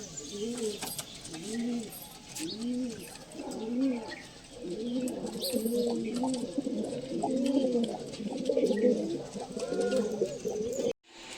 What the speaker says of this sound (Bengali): পায়রাটাকে একটু ছেড়ে শক করালাম।